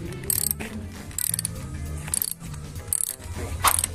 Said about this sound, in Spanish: Quitamos este tornillo de aquí y este tornillo de acá para empezar con un dado de 12 milímetros